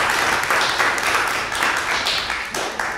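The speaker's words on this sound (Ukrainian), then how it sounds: "Оплески." Audience applause at a City Day and Journalists' Solidarity Day concert, a dense, continuous burst of clapping from a crowd, loud and close, with slight swells and no voices over it.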